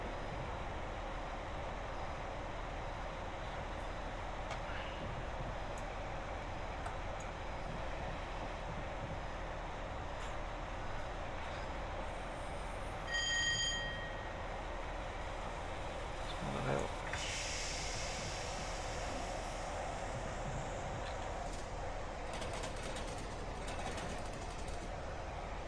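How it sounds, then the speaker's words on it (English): Train Simulator 2018 train running on the Carlisle to Glasgow line near Motherwell, passing over junctions: a steady, loud rolling rumble throughout, with faint intermittent clicks and knocks from the track. "It's a good noise, that, isn't it, when the trains go over the junctions and stuff."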